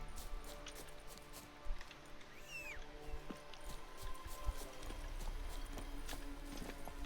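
Horse hooves in The Witcher video game sound as soft, irregular clopping under an outdoor ambience, fairly quiet, with a few sharper thuds and faint rustling.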